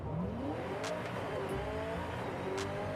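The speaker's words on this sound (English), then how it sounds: "here's what it sounds like inside the car." In Forza Horizon 5, a drag-tuned Ford Mustang SVO heard from the in-car view revs hard, its engine note climbing in pitch with a sharp shift and brief tyre chirps, loud and alone.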